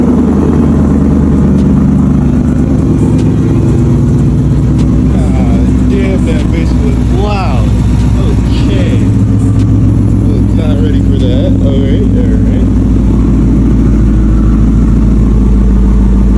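A loud car engine fitted with long-tube headers rumbles and revs close by with a deep exhaust note at a snowy car meet, while a person talks over it for much of the time.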